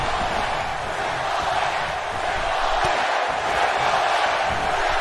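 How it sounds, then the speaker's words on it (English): Arena crowd in the wrestling video game WWE 2K19 at a SummerSlam match for Triple H, a dense, steady roar of many voices with no distinct breaks, loud and continuous throughout. "The crowd chanting for Triple H"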